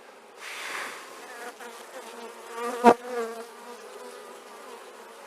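Honeybees hum in a steady, close buzz from an open hive during an inspection, with one sharp louder burst near the middle as a bee passes the microphone.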